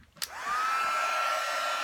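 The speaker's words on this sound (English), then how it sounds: "Now I'm going to take my heat gun, and I'm going to warm up my heat gun." A heat gun for craft heat embossing switches on with a click and rises into a steady, close blowing whir with a faint whine as it warms up. No one speaks.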